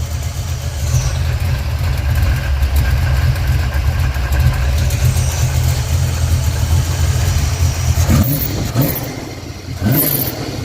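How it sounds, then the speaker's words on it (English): An old car's engine idles after its first start in 26 years, a loud, steady low rumble that runs throughout, with a couple of brief higher-pitched revs or clatters near the end. "It's been idling for a couple of minutes."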